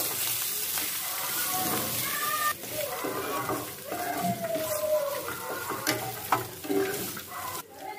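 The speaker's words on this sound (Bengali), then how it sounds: "এবার মশলাগুলো ভালো করে ভেজে নেব।" Chili powder and cumin fry in oil in a pan with a steady, close sizzle and occasional stirring scrapes, while faint tonal calls sound in the background.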